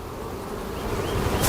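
Honey bees buzz steadily at an opened beehive during a brood box inspection, a sustained droning hum of many insects that swells slightly louder toward the end.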